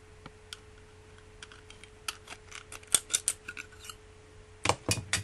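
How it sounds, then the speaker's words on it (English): Scissors cut through a thin metal bean can lid, giving a run of sharp, close snips and crunches, sparse at first and then quicker and louder toward the end, against a quiet background hum. "I've got a bean can lid here, and I'm going to cut this out into a square."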